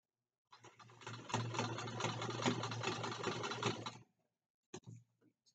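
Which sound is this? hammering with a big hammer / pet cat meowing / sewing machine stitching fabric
sewing machine stitching fabric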